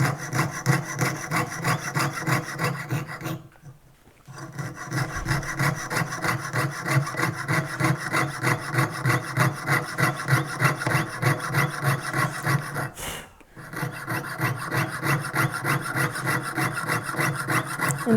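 A jeweler's saw cuts through metal by hand in steady, rhythmic back-and-forth strokes, close and clear, with two brief pauses before the rasping strokes resume.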